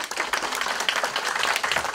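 Audience at a Korean public lecture clapping in a dense, sustained round of applause, close and even throughout without pause.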